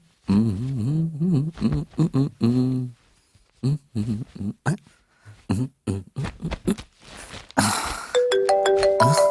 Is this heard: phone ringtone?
yes